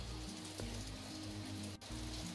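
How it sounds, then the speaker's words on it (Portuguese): Steady rain falls outdoors in a broad, constant hiss, with low steady hum beneath and a brief dip near the end; no voices. "Olha a chuva, gente, ó."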